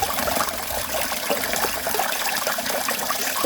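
Water splashes and trickles steadily at close range as someone bathes outdoors in a forest, a continuous wet pouring and dribbling with no talk.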